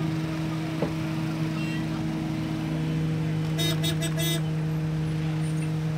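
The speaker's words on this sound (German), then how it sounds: "Alle hupen, dann hupe ich halt auch mit." Car horns sound in busy street traffic in Lomé, Togo: a cluster of short, sharp honks midway over a steady hum of engines and road noise.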